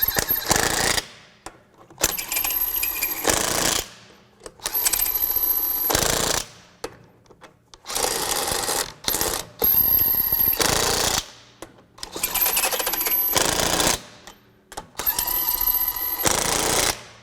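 A Craftsman V20 brushless 1/2-inch drive impact wrench on its lowest speed setting tightens fasteners in loud repeated hammering bursts of one to two seconds, with short silent gaps between them.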